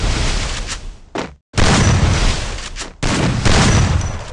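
Close, loud shotgun blasts from an M1887 in a shooter video game, three heavy booming shots separated by brief gaps, each with a sharp crack and rumbling tail.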